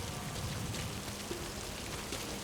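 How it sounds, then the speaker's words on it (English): Rain falling in Metal Gear Solid 5, a steady soft hiss of rainfall with scattered faint drops, continuous and fairly quiet with no talking. "Sound of rainfall should help to mask your footsteps."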